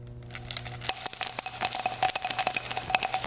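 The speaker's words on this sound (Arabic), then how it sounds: "قم بتفعيل الجرس ليصلك كل جديد" A notification bell sound effect: a few light taps lead into a bright, shimmering metallic ringing chime that sustains loudly and alone.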